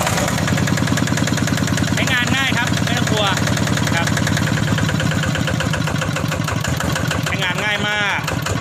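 An RT140 Plus engine fitted with a genuine factory starter idles at slow speed just after starting, a steady close, loud chugging putter with a few brief high squeaks over it.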